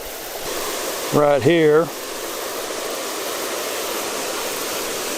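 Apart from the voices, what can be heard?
spring water flowing into a creek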